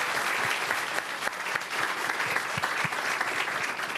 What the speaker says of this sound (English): let's give them all a round of applause to thank them.